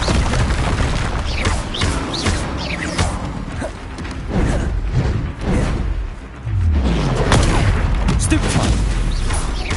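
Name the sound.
spell combat blasts in Hogwarts Legacy video game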